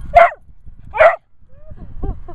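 Two big white Great Danes at a dog park let out two loud, deep barks about a second apart, followed by quieter yips and whimpers, with faint voices in the background.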